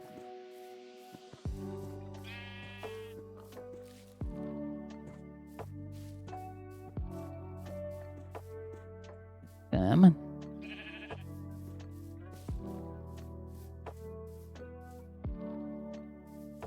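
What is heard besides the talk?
sheep bleating in video game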